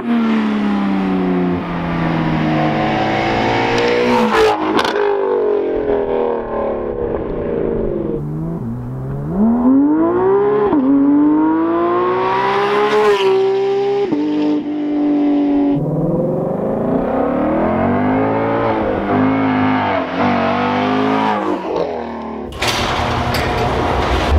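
A Shelby driven hard alongside a Porsche GT3 RS, its engine loud and close, revving up and down through repeated climbs and drops in pitch, with shifts and a brief lull near the end.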